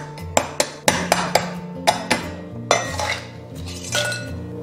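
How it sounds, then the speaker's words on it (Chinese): The back of a knife smashes crab claws on a board: about ten sharp, close cracking knocks in an uneven rhythm, some with a brief metallic ring, with no talking. "大拇指这些用刀背给它拍碎"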